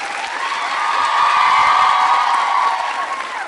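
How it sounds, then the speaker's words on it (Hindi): A university crowd at a Holi quiz show claps and cheers for a woman, a steady dense wash of applause with raised voices and whoops running through it, swelling slightly in the middle before easing. "अब आप तालियां जोरों से बजाइए मैम के लिए।"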